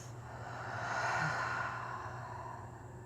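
A deep, slow exhale out through the mouth during a yoga breathing exercise, a soft broadband breath that swells and fades over a few seconds in a quiet room.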